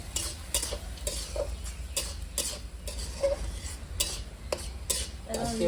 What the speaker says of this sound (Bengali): এখানে দিয়ে দেবো আমি আদা রসুনের পেস্ট ভালো করে কষে নেবো